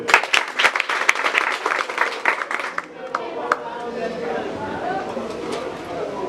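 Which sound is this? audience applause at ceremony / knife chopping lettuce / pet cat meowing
audience applause at ceremony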